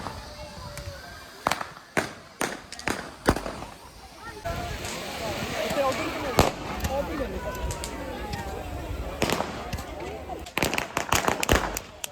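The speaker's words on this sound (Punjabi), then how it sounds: "ਹੁਣ ਜਵਾਕਾਂ ਵਾਸਤੇ ਨਾ ਛੋਟੇ ਮੋਟੇ ਪਟਾਕੇ ਜਿਹੇ ਲਿਆਂਦੇ ਆ ਉਹ ਚਲਾਉਨੇ ਆ" Small firecrackers set off for Diwali in an open area in Italy, a run of sharp pops and bangs, some in quick bursts, with a crackling stretch in between and voices in the background.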